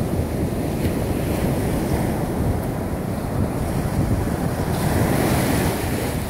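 Ocean waves wash steadily onto a beach with wind buffeting the microphone, a continuous broadband roar of surf that swells and eases slightly throughout, with no voices.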